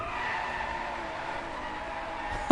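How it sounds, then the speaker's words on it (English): Tires skid steadily as a beige Ferrari drifts in the racing video game Driveclub, with a sustained engine and tire whine running the whole time at fairly even loudness. "I'm drifting a beige car. And it's a Ferrari."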